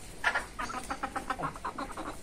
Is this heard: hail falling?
no